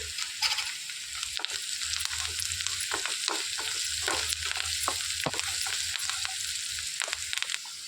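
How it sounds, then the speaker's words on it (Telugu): Onions with curry leaves and turmeric frying in a pan, a continuous close sizzle broken by the scrape and clatter of stirring. "ఇందులోనికి కరివేపాకు కొంచెం హాఫ్ టేబుల్ స్పూన్ పసుపు వేసి వేయించుకోవాలి"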